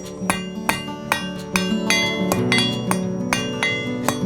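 Hammer forging a short taper on a hot iron bar for a Viking era key, a steady run of sharp metallic ringing blows about twice a second, close and clear with no talk.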